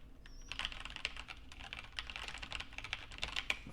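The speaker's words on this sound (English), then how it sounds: "Test number 2, keyboard is in front of the microphone." Brisk typing on a computer keyboard placed in front of a USB microphone, close, crisp key clicks in a rapid uneven patter with no voices.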